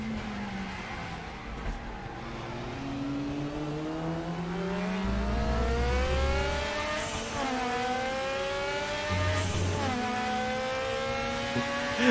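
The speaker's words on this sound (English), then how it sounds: "I don't think I'll ever get tired of hearing this car go through the gears." A race car in RaceRoom Racing Experience on TT Circuit Assen climbs through its gears, engine pitch rising in repeated sweeps and dropping at each shift, loud and steady with no talk.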